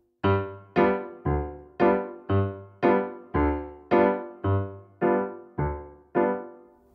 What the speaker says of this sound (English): That's the basics of learning the stride left hand.